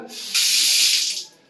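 A bathroom water tap is turned on, and a loud, close hiss of running water gushes for about a second before easing off.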